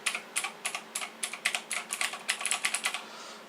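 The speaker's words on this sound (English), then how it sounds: "I also got a nice new keyboard here, and this one is a mechanical keyboard" Quick clacky keystrokes on a mechanical keyboard in an irregular typing rhythm, close and fairly quiet, with no talking.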